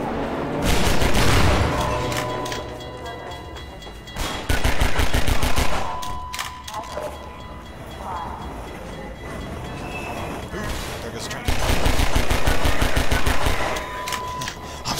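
Gunfire in the video game Half-Life 2 comes as loud bursts of rapid automatic fire, with several long sustained volleys separated by shorter pauses that are filled with game noise.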